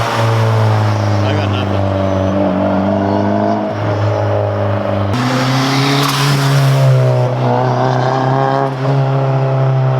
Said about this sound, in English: just drive up and down the street the same way you were before